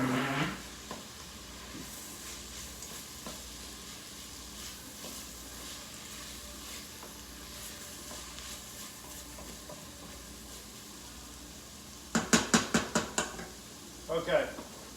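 Vegetables sauteing in a pan for a gnocchi bake, a low steady sizzle running throughout, with a burst of sharp clattering pan or utensil knocks near the end.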